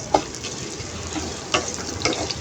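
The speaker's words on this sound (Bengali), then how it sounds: "দিয়ে দিব পেঁয়াজ কুচি, কাঁচামরিচ কুচি দিয়ে একটু হালকা ভেজে নিব" Chopped garlic, ginger, onion and green chili lightly frying in oil, a steady close sizzle with a few soft stirring scrapes, no voices.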